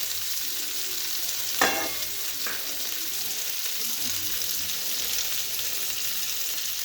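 Steady, close frying sizzle in a wok for koi fish with cauliflower and potato, a continuous bright hiss with one sharp clack of a utensil partway through.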